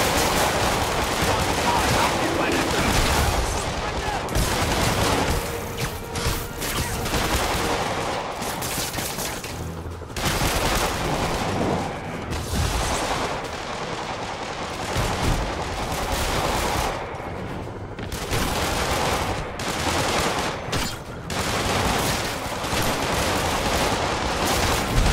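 Sustained gunfire from enemies in the PS4 game Marvel's Spider-Man, dense rattling bursts and shots continuing steadily throughout, with voices talking over the shooting.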